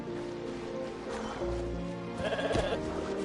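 A goat bleats in Genshin Impact, a wavering close bleat over a game's background music and ambience.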